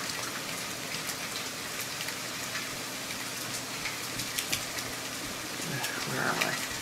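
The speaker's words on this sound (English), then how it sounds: "The rain sounds better" Steady rain pattering on surfaces in The Forest survival game, a constant even hiss with scattered droplet ticks, continuing throughout with no speech over it.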